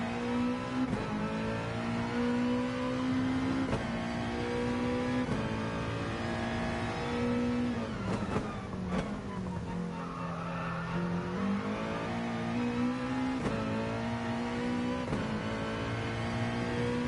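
A race car engine in a racing video game at Bathurst drones steadily with repeated gear shifts, rev changes and tire squeals, loud and continuous throughout.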